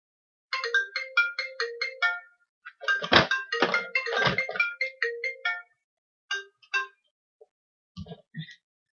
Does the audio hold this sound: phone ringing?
yes